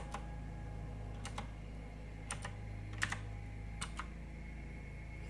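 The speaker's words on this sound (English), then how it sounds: "feels very satisfying to type the keys, does make a little bit of noise" Clicky blue-switch keys on a backlit gaming keyboard are typed in scattered single presses and short bursts, crisp and close over a steady low hum, with no talking.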